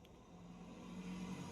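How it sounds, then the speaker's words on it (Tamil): A lorry passes on the road at a distance, its low engine rumble and road noise faint and steady for a brief moment. "லாரி போகுது பார்த்தீங்களா"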